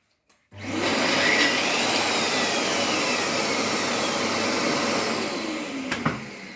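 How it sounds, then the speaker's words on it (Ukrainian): A vacuum cleaner attached to a wall chaser switches on abruptly and runs steadily with a loud, broadband whoosh and a low hum, close by, with a brief clunk near the end. "Зразу починає працювати пилосос"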